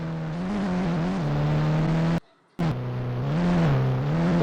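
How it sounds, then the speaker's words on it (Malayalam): Defender SUV in the mobile game Indian Bike Driving 3D reversing into a shed, a steady loud engine drone with a shifting tone that cuts out briefly midway before resuming. "നമ്മളിത് റിവേഴ്സ് അടിച്ചു കയറ്റിക്കൊണ്ടിരിക്കുകയാണ്."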